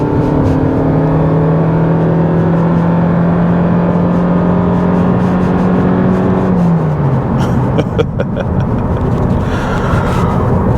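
A 2024 Toyota Prius Limited hybrid launches from a standstill and pulls hard under acceleration, its pitch climbing steadily and then dropping as it shifts, loud and close with no talking.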